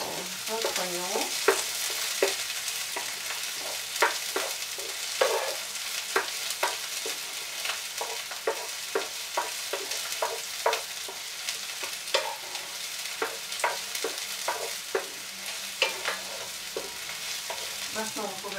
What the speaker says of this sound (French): Donc faites revenir légèrement votre oignon